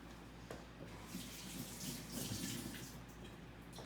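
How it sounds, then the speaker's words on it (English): Hands rinsed under a running kitchen tap while making broccoli pickles, a steady close stream of water splashing into the sink, with slight shifts as the hands move and no talk. "Now what we're gonna do is we're gonna rinse my hands off"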